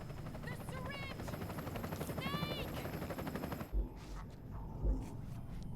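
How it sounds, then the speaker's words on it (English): A loud, close helicopter in Metal Gear Solid 4: Guns of the Patriots with a fast chopping rotor drone that cuts off abruptly, leaving a few heavy thumps. "I can't hear you over the helicopter."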